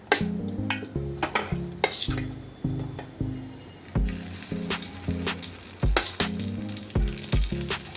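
Gunta ponganalu batter fries in oil in a paddu pan, a steady sizzle with repeated clinks and taps of a utensil against the pan, layered with music.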